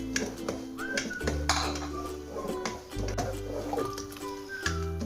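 An egg being stirred into chicken and vegetable soup in a pot. A utensil clinks and scrapes against the metal over a low cooking hum in a steady, repeated stirring rhythm.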